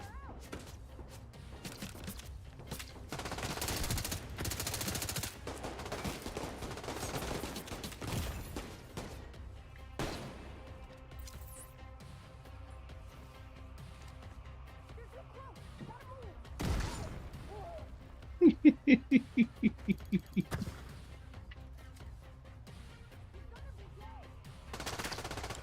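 Video game shooter gunfire: bursts of shots spread through the round, with a tight rapid volley of sharp cracks near the end, over game noise and a voice talking.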